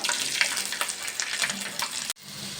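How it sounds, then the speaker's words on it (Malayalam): Hot oil crackles and sizzles with scattered pops as about twenty garlic cloves fry for mango pickle, with a few stirring scrapes, then the sound cuts abruptly near the end. "ഇതിലേക്ക് ഏകദേശം ഒരു ഇരുപതല്ലി വെളുത്തുള്ളി എടുത്തിട്ടുണ്ട് അതിട്ട് കൊടുക്കാം"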